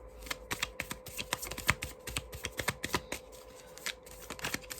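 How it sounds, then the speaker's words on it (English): Oracle cards from an Island Time Wellness deck being shuffled by hand, a close, continuous run of quick crisp riffling flicks and soft slaps with no talking. "I'm also going to pull my Island Time Wellness cards"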